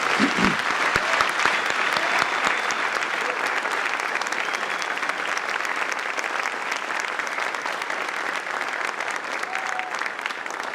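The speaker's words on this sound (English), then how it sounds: "Please join me in a round of applause in recognition of our scholarship and award recipients." An audience applauds at a high school senior awards ceremony honoring scholarship and award recipients, with a continuous wash of clapping from a large room that holds steady for around eleven seconds.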